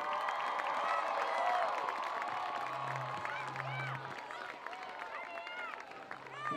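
A crowd cheering and applauding at a Palatine High School football game, a continuous roar of voices with shouts and whistles, moderately distant, while a voice talks over it.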